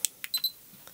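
A Hawkeye Firefly Thumb 4K action camera gives short, high electronic beeps as recording starts, a quick pair of clear tones close up in a quiet room.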